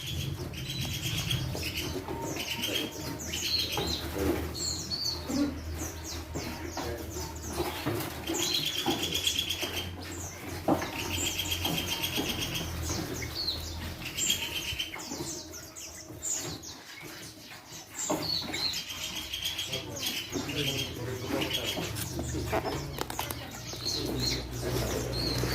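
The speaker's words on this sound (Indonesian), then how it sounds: "nih sama-sama tipe burung masran ya." A masteran songbird of the RPP type sings in short, tightly packed bursts of high chirps and trills, with wing flaps and other bird activity steady in the background throughout.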